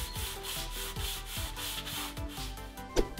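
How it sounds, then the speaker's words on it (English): Sandpaper rubbed back and forth along tubes to remove printed lettering, a rhythmic scratchy rasp repeating about twice a second, close and steady, ending with a sharper knock. "And of course we sand the horrible lettering off."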